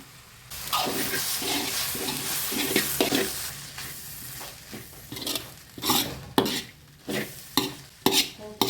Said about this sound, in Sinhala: දැන් ඉතින් අපි කොත්තුවට හොඳට හොදි ටිකක් දාගෙන කලවම් කරනවා